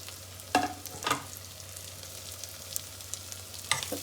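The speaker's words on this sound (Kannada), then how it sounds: "ಸ್ವಲ್ಪ ಫ್ರೈ ಮಾಡ್ಕೊಳ್ಳೋಣ." Mint and cumin fry in a pan for Karnataka-style tomato bath, a soft steady sizzle with a few sharp scraping stirs, close and without talk.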